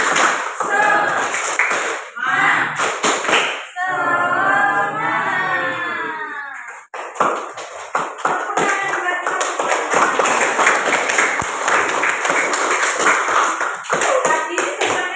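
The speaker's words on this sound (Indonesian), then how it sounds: "sebelumnya kita tepuk semangat dulu ya, biar tetap semangat" A classroom doing a rhythmic clapping chant: quick patterned hand claps and taps under a class and teacher chanting and speaking together, with talking continuing afterward.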